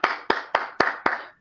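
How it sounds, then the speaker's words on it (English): Five sharp, evenly spaced claps ring out close and loud, each with a short decaying tail, alone with no voices, sounding more like one pair of hands than a full audience. "Please, can we get a round of applause?"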